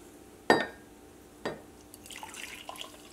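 Hot chocolate made in a pan is tipped out, giving two brief splashy pours followed by faint dripping and small liquid trickles nearby.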